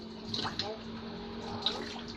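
A faucet streams into a sink during dishwashing, a close, steady watery rush with small splashes and a few sharp clinks, while someone talks through it.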